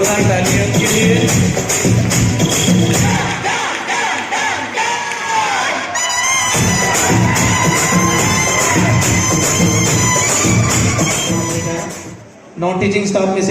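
Loud crowd cheering and applause fill a school students' felicitation ceremony, with shouts and whoops rising and falling continuously over a steady roar and a voice speaking over it, before a brief dip near the end.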